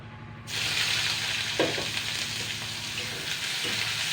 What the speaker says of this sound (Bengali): এবার আমি পেঁয়াজ কুচানোটা দিয়ে দেবো